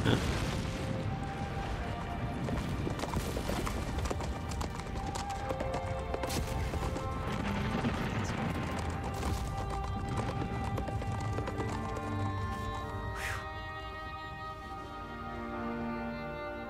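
Rapid hoofbeats of galloping horses in the video game Shadow of the Colossus pound continuously with clatter and crashes layered on top, a dense, busy scene that eases off near the end.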